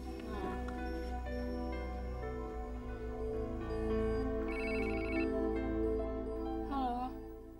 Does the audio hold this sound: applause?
no